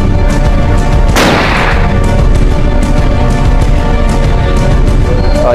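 A single loud gunshot-like boom cracks out near the start and then decays, heard within a comedy parody scene over a constant noisy background.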